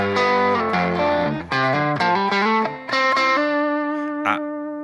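Electric guitar through a distorted amp-modeller tone with the sag turned up and slightly more gain, a run of chords and single notes that ends on one held note ringing out and slowly decaying.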